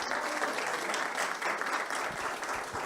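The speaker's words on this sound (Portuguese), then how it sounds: "A salva de palmas é para você" Audience applauding a speaker at a panel discussion, steady dense clapping that fills the whole stretch at an even level, with no pauses or individual voices standing out.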